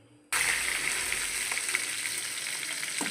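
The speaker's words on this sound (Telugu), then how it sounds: "జీలకర్ర కరివేపాకు వేసాము ఇంకా వేగనిద్దాం" Cumin seeds and curry leaves hit hot oil in a pan for tomato egg curry, bursting into a sudden loud sizzle that holds steady and close for about three seconds, with a faint clink near the end.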